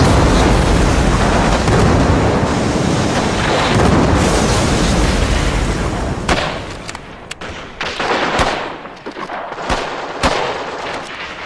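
A First World War artillery barrage sound effect: a sustained rumbling roar of heavy guns and explosions, loud and continuous, then thinning into separate sharp blasts and booms toward the end.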